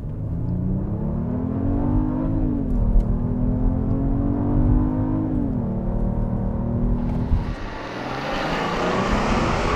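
A 2021 Genesis GV80 3.5T Prestige all-wheel-drive SUV with a 3.5-liter twin-turbo V6 accelerating hard without launch control, the engine note climbing steadily through gear changes, loud and close, then a rushing wind and road roar at speed.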